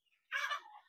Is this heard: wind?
no